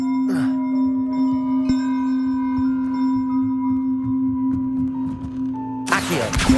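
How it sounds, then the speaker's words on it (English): A bell rings out in the Hogwarts video game, a sustained metallic tone with steady ringing overtones that hangs across the whole stretch, ending in a sudden burst of broadband noise. "Terrible bell."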